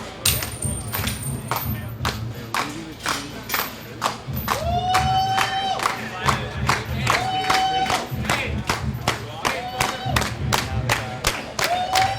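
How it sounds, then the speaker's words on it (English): Large protest crowd gathered outside a bank in Seattle, Washington at a 2009 WTO reunion demonstration: dense crowd noise with steady rhythmic clapping and shouting throughout, recorded from within the throng. "It's a pretty large crowd actually outside of the bank."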